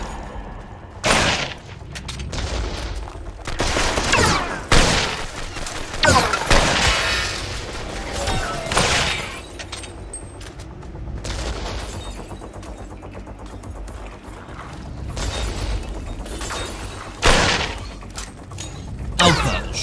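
Bursts of gunfire in the co-op shooter Killsquad come in repeated loud volleys and sharp blasts, with scattered thuds and booms between them over a busy background of game noise.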